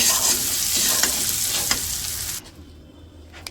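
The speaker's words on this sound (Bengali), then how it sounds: "আলুগুলো তো হালকা ভাজে নিচ্ছি" Potato pieces sizzle and get stirred in hot oil in a cooking pan, a loud crackling fry with scraping strokes that drops away abruptly to near quiet partway through.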